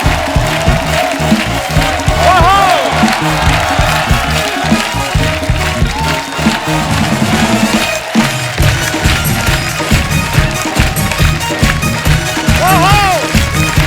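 A studio audience at a comedy show breaks into loud, sustained applause and cheering to welcome Janhvi Kapoor and producer Boney Kapoor, hands clapping densely throughout while a host speaks over the crowd.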